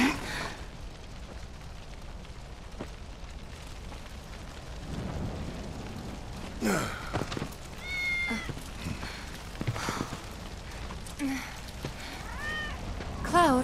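In the Final Fantasy 7 Remake video game, a cat meows several times in the second half, short rising cries over a steady ambient game bed with occasional thuds.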